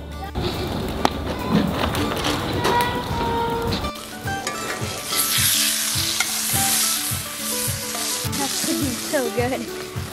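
Food sizzles on a grill over an open fire, a steady loud frying crackle with stirring and scraping sounds on top, continuing throughout without speech.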